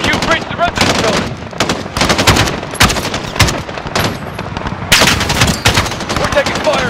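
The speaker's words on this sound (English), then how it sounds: "We're taking fire from the residence." Dense bursts of machine-gun and rifle fire crackle loudly and almost without pause during an embassy compound firefight in Call of Duty: Modern Warfare. Brief shouted voices cut in now and then.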